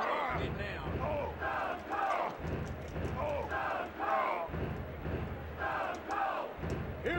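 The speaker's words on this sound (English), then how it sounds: "The crowd goes crazy." Wrestling arena crowd from the video game WWF War Zone, a loud roaring cheer that swells and dips in waves with shouted yells through the crowd noise.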